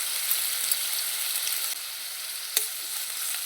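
Onion, garlic and ginger paste frying in hot oil gives a loud, steady sizzle with a few small pops and scraping stirs, and no voices.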